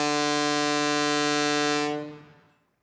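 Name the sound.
boat whistle blown in cartoon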